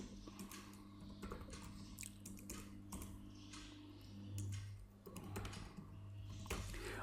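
Someone types a name and email address on a computer keyboard, a soft, close, steady patter of key clicks in uneven bursts over a faint low hum.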